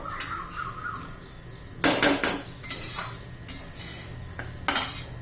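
Semolina roasting in ghee in a pan while a spoon scrapes and clinks against the metal, with intermittent stirring bursts over a quiet sizzle.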